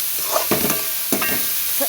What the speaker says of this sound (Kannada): ಇವಾಗ ಇದ್ರ ಜೊತೆ ಹೆಚ್ಚಿಟ್ಕೊಂಡಿರುವ ಟೊಮೆಟೊ ಸೇರಿಸಿ ಚೆನ್ನಾಗಿ ಫ್ರೈ ಮಾಡ್ಕೊಳ್ಳೋಣ